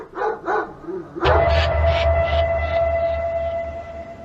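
A black dog barks several times in quick succession, loud and close, followed by a sustained tonal drone over a low rumbling background.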